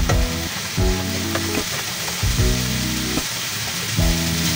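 Cooked shrimp paste (bagoong alamang) fries in a pan for binagoongan boneless milkfish, with a loud continuous sizzle broken by repeated clattering stirs of a utensil against the pan.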